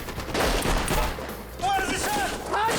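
Gunfire during the Entebbe raid: a dense, sustained fusillade of shots, close and loud, continuing through the whole moment while voices shout over it.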